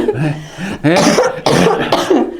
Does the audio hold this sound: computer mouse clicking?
no